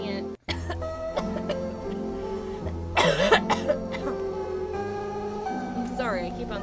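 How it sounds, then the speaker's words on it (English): A person coughs several times in a quiet stretch over steady background music, the coughs sharp and close. "I keep on coughing"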